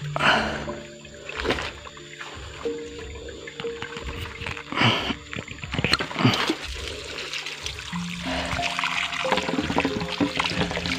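Spring water from a source in the Ciyurup forest in Cigudeg, flowing and trickling near at hand, with pouring and splashing surges that rise and fall throughout.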